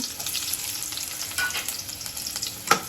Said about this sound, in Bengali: তেলটা গরম হয়ে গেছে আমি হাফ কাপ তেল দিচ্ছি পেঁয়াজটা দিয়ে দিলাম আমি বাগারের জন্য